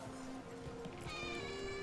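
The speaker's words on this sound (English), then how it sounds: "Cat." A cat meows softly in Dragon Age: The Veilguard, a faint short call over steady sustained game music.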